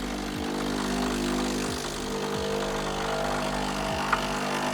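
A Sage Barista Express espresso machine pumps a shot of level-2-ground coffee, giving a steady, loud mechanical hum with a low buzzing drone that continues unbroken as pressure builds, with no talk over it.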